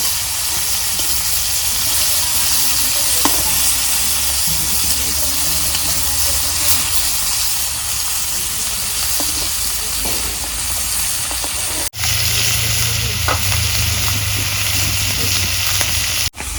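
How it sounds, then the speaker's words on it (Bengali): Pangasius fish frying in hot oil, a loud steady hissing sizzle that runs throughout with a brief cut near the end, with faint scattered clinks underneath. "মাছ ভাজা হচ্ছে"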